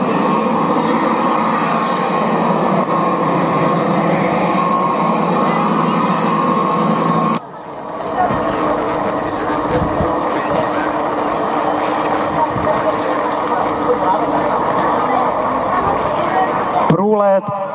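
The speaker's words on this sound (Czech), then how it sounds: "Průlet loučící se letounu L39." An L-39 Albatros jet trainer makes a farewell flyby at an air show at Čáslav, a loud, steady roar with whining tones that holds throughout, cut by a brief drop partway, with voices underneath.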